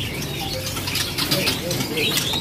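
Caged songbirds at a bird market kiosk, including bondol finches, chirp and tweet continuously with a pigeon-like coo mixed in, moderately loud amid busy ambient noise.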